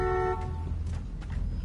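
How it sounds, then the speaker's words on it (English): A car horn honks in a sustained blare at the start, then cuts off, leaving a low rumbling engine and faint noise. "Lay on the horn."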